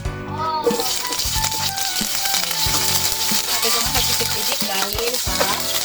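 Onions sizzle as they fry in oil in a pan for a Filipino pork kinamatisan dish, a steady loud crackle with scraping stirs and clinks, a brief exclamation near the start.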